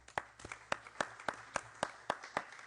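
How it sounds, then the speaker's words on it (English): Applause at a parliamentary assembly standing committee session, heard as a short run of steady, evenly spaced claps from a modest group, moderately close and fairly quiet, with no talk over it. "So applause for the report."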